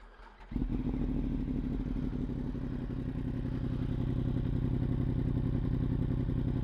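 A motorcycle fitted with a full titanium Akrapovic exhaust starts with a quick crank and settles into a loud, steady, close idle rumble that runs throughout.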